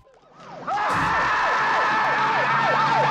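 A loud ambulance siren from a 1976 film scene wails in steady repeating sweeps, close and continuous, after a brief quieter lead-in.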